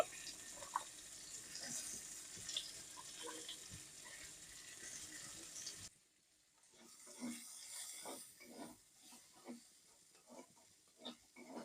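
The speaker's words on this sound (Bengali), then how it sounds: "এবারে আমি পেঁয়াজ কুচি দিয়ে দেব" Chopped onion hits hot oil and fries with a soft steady sizzle, followed by quieter scraping stirs in a pan, faint and close, with no one talking.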